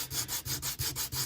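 A scrap piece of sandpaper rubs back and forth over a carved Foamex foam stone wall, giving about seven quick, even, close scratchy strokes in a steady rhythm.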